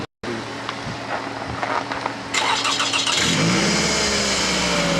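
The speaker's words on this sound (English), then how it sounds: "That's a warm engine." A 2013 Volkswagen car engine cranks, catches and revs up loudly and close, the pitch sweeping upward as it accelerates after an abrupt start.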